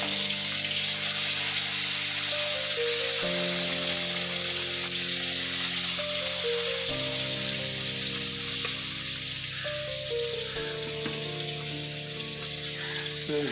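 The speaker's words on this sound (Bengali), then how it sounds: "এবার মাছগুলো আমি ভাজতে দেবো।" Prawns coated in turmeric and salt fry in hot oil in a kadai, giving a continuous loud sizzle and crackle with no break, while steady keyboard-like tones play underneath.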